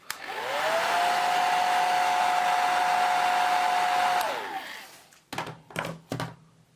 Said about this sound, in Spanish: O tiramos de secador, que para eso están las tecnologías.